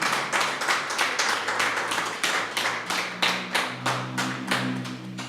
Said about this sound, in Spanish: Démosle un aplauso fuerte al Dios vivo